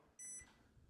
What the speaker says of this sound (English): if I try and tilt this down, it's going to beep